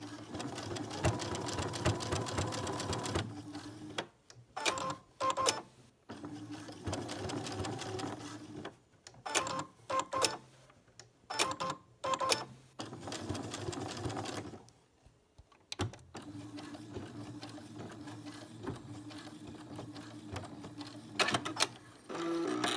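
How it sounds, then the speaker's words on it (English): A sewing machine understitches a pocket on a pair of joggers, running in several rapid mechanical bursts separated by short pauses and quieter stretches, close and clear. "I don't usually sew one-handed, but this is understitching"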